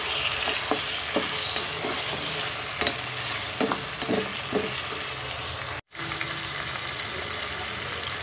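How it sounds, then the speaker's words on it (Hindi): Chicken frying in a pan for a creamy white chicken handi, a steady close sizzle with intermittent spatula scrapes and stirring clicks, briefly cut out near the end. "अब हम चिकन को फ्राई करेंगे"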